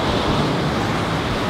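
Ocean surf washes steadily on a beach, a continuous loud broadband roar of breaking waves with wind noise across the microphone and no talking.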